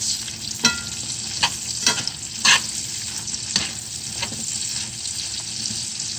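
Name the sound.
sunchokes sautéing in pan with onion, olive oil and butter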